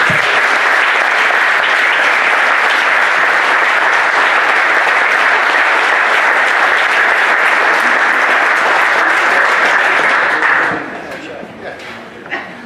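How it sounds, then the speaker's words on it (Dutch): At a reception, a large crowd claps loudly and steadily for about ten seconds before the applause fades into scattered claps and room noise. "en een keihard applaus denk ik"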